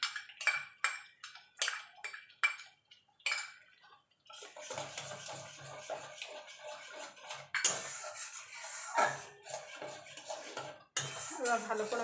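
A spoon scrapes and clinks against a cooking pan while spice paste is mixed with beaten yogurt and a little sugar. Sharp metallic taps come first, then a wetter continuous stirring with scrapes, close and clear.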